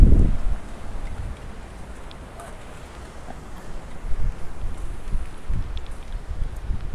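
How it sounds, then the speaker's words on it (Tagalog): Hurricane Fiona winds gusting across Bermuda, heard as rumbling buffeting against the microphone, with a strong blast at the start, a brief lull, then renewed gusts and faint rustling. "Sumasagit-sit pa yung hangin, ano?"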